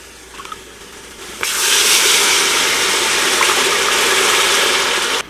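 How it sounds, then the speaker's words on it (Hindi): A steady rush of water, nine cups, pours continuously into a cooking pot for several seconds after a brief quiet start, loud and close. "अब हम इसके अंदर पानी ऐड करेंगे।"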